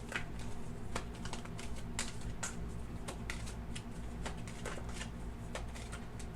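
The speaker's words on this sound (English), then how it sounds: "So we will go ahead and go 8 cards from the top as soon as I shuffle." A deck of tarot cards is shuffled up close, giving rapid irregular riffling clicks and flicks over a low steady hum, with no talking.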